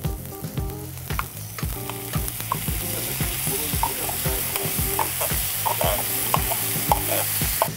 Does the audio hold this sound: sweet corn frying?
yes